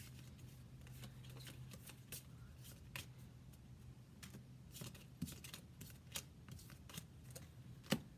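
Faint, close rustles and soft flicks of tarot cards being shuffled and pulled for a psychic reading, scattered light taps over a quiet low hum, with no talk.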